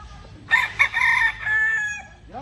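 A Sweater McLean stag rooster gives one loud, close crow, a clipped start that stretches into a long drawn-out tail, heard alone.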